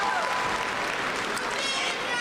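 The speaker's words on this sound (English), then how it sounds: "Give yourselves a round of applause because you absolutely deserve" Applause from a large crowd at the Southern University and A&M College fall 2022 commencement ceremony, a loud continuous wash of clapping and cheering heard throughout.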